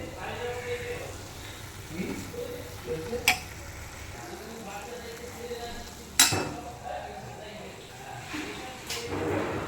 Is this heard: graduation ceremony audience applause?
no